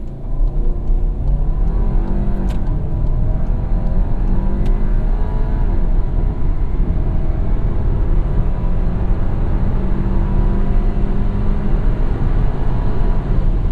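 A 2017 VW Golf SportWagen 1.8TSI S 4Motion with sport-mode transmission launches hard from a standstill, its engine rising in rumbling pitch through several firm gear changes, heard from inside the cabin with steady road roar and no talk.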